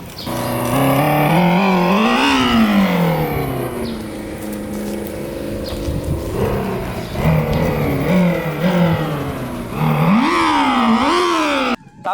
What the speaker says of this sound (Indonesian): ada fitur suara ini atau artificial sound